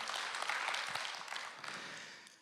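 A church congregation claps along during a sermon, a fairly faint, dense patter of hands that gradually fades toward the end.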